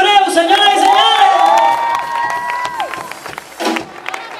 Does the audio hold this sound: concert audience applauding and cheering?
yes